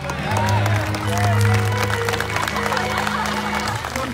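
Women in a church congregation clap together during an evening revival meeting in Ranau, Borneo; the dense, steady patter carries on for several seconds under a loud voice and a low droning accompaniment.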